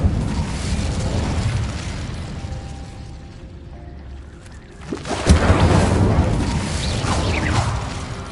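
A fire spell cast in the video game Hogwarts Legacy: a sudden loud whooshing burst flares up near the middle, then a rushing roar that holds over a steady low rumble of game ambience.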